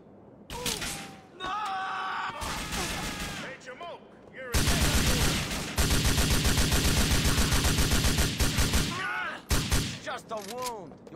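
Rapid automatic gunfire in Grand Theft Auto cracks out in loud, dense bursts, with a long sustained volley in the middle and scattered shots around it, while shouting voices break in between.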